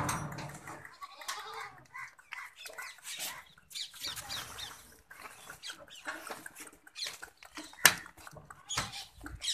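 Barbari goat kids at a livestock seller's yard in Badaun, Uttar Pradesh, bleat in short, repeated bursts. Scattered clucking and other farm-animal noises come in between the calls.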